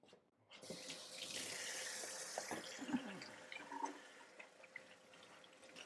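Water running steadily from a kitchen tap while hands are washed, a close, continuous hiss with small splashes and shifting flow as the hands move under the stream.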